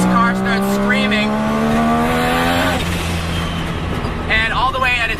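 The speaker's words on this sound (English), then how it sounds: "at higher RPMs, this car starts screaming" A three-rotor Mazda RX-7 rotary engine screams as it revs up, rising steadily in pitch for a couple of seconds before dropping off, loud and close.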